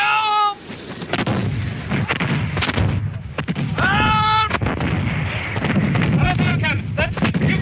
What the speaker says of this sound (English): That's Cumberland's cannon.